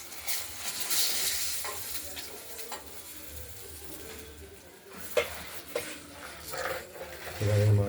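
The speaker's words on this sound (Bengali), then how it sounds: "এবারে মাছগুলো ভেজে নেব।" Pieces of fish fry in a pan of oil, giving a quiet, steady sizzle with brief crackling bursts and light scraping of a utensil, close up and without talk.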